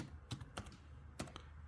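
Keys tapped on a computer keyboard while entering a web address to book a medical appointment, heard as a few sparse, soft clicks in two small clusters over a quiet background.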